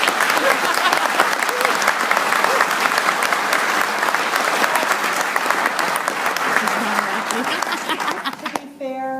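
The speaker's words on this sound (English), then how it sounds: "To be fair, let's hold the applause." Strong audience applause at a panel discussion on guns, a dense crowd clapping loudly that begins to thin near the end as a voice starts speaking over it.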